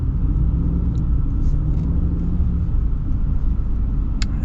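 Steady low rumble of the V8 engine in a 2026 Ram Tradesman Power Wagon, heard from inside the cabin, smooth and continuous at an even level with faint road noise and no talking.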